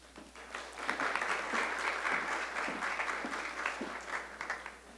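Sustained applause from a meeting audience at an Orange County children's commission session, a dense steady patter of many hands lasting several seconds with no talking over it.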